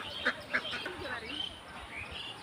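Ducks on a riverside village farm, with a couple of sharp quacks early on and softer calls after, heard at moderate distance as people talk nearby.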